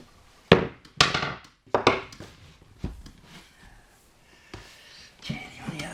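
Pine tongue-and-groove board being banged down into place by hand, giving several sharp wooden thunks and knocks at an uneven rhythm, close and fairly loud, with a softer rustle near the end.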